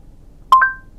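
Android Auto's message-sent confirmation tone in a 2019 Kia Forte: two quick, close electronic chimes, the second one ringing out briefly, clear over quiet cabin hush.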